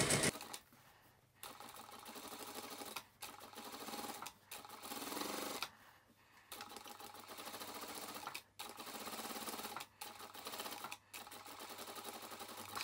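A domestic sewing machine runs a straight seam around the edge of a fabric lunch mat, its steady mechanical whirring and rapid needle clatter broken by several brief pauses where the stitching stops and restarts.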